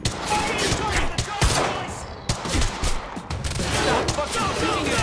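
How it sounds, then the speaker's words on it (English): Dense rapid gunfire from the video game Quantum Break, a sustained barrage of overlapping shots close by with brief lulls and shouting voices mixed in. "Stop fucking shooting at us!"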